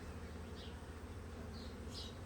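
Honey bees hum steadily at an opened, mouldy hive during an inspection, a faint continuous drone with a few brief, sharper buzzes as individual bees pass close.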